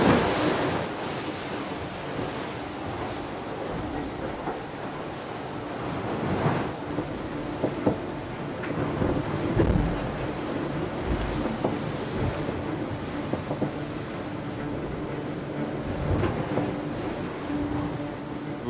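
A racing sailboat runs at 25 to 30 knots across the open Southern Ocean, with constant roaring wind noise and surging, crashing waves washing over the hull in irregular bursts, loud and close.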